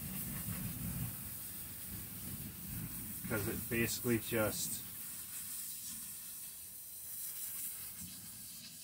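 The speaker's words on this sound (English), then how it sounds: "I'm going to spray the sand" A steady hiss of water spraying sand out of the roots of a clump-style ficus tree runs throughout, with a person talking over it in the middle.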